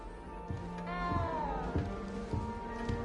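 A small cat meows in a video game, a few rising and falling cries over steady game music, with low thumps and sound effects in the background.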